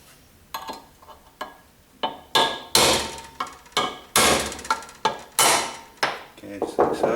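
A hammer drives an engine seal out from the back side of a 4.7 Dodge crate engine, giving a steady series of sharp metallic knocks, roughly fifteen close, loud blows in an uneven rhythm with no talk.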